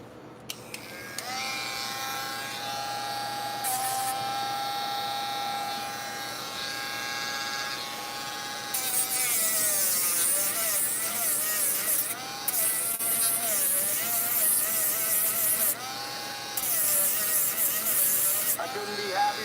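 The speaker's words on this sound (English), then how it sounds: "Now I need my heavy sander," A heavy electric sander runs on a paper model of a Cybertruck, a close, steady high-pitched motor whine whose pitch wavers and dips as it presses and lifts, with bursts of gritty abrasion over the buzz.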